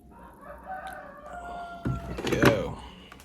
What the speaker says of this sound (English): The rooster's going off.